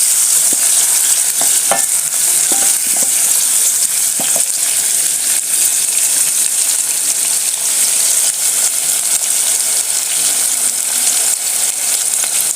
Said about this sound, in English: My onions are still cooking.